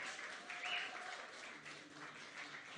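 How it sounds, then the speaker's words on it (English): An audience claps at an annual recognition event, a soft, steady wash of applause heard from a distance that stays even and faint throughout. "Can we have a round of applause for Dr."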